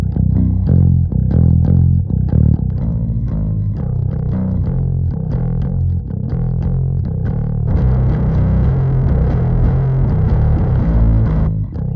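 Loud, gritty distorted bass guitar through the Gorilla Bass Studio Suite amp app on iOS, playing a riff of punchy notes, with the tone thickening and growing brighter partway through as a boost button adds about 20 dB.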